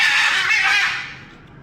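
A pet parrot, an Indian ringneck or green conure, gives a single loud, harsh squawk close by that trails off quickly into quiet.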